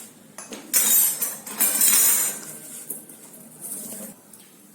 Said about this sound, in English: And mix it well.